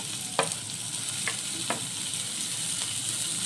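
Capsicum and carrot frying for gobi fried rice, a constant close sizzle broken by a few sharp spatula taps and scrapes against the pan, with no talking.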